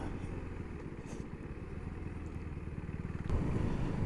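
A 2024 Husqvarna Svartpilen 401 single-cylinder motorcycle riding on a road, its engine thrumming steadily under wind rush, then swelling louder near the end as the throttle opens.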